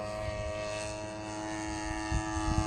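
A radio-controlled propeller airplane powered by a buzzy little 52cc grass-trimmer engine drones steadily overhead, its tone holding even with a slight rise near the end.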